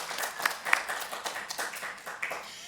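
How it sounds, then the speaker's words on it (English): A short burst of scattered clapping from a small group in a weekly project meeting, light and fairly close, thinning out over a few seconds. "A big round of applause for all of our friends of Mozilla this week."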